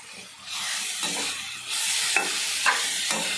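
Onions and tomatoes fry in a pan while being stirred, giving a steady sizzle and hiss with several scraping strokes of the spoon, close and loud with no talking.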